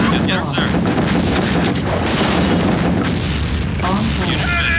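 Heavy gunfire and booming explosions in a real-time strategy battle game, loud and continuous, with overlapping blasts and unit voice lines speaking over the din.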